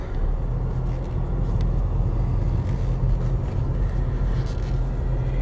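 A 2011 Ford Fusion Hybrid threads slowly through a course of cones, giving a steady low road rumble and soft engine hum, close and continuous with no talk over it.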